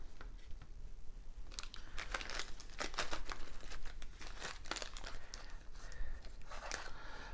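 A plastic bag of parts for a DIY handheld video game electronics kit, holding a battery holder and acrylic pieces, crinkles and rustles close up in irregular bursts as it is handled.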